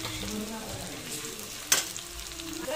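Garlic and ginger fry in hot oil with a continuous close sizzle, broken by a brief sharp clatter of stirring midway.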